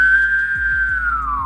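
A human whistles a single sustained tone with a rounded O-shaped mouth, loud and close, gliding slightly downward at the end over a low rhythmic background.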